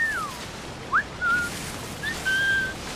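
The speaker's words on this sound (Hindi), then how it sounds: "सीटी मार रहा है ये, सीटी मार के बुलाएगा।" A character in Assassin's Creed 4 Black Flag whistles to call others, a few short rising and level whistles spread across a few seconds over soft ocean-like background noise.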